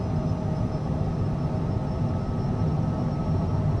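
Twin jet engines of a CJ4 business jet spooled up to takeoff power in MSFS 2024, a steady, loud roar with a broad rushing hiss and a faint high whine, holding constant throughout without talk.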